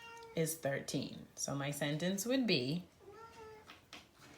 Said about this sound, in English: If you can hear her meowing, she would like to go outside